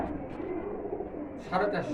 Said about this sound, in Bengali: এক জোড়া কবুতর আছে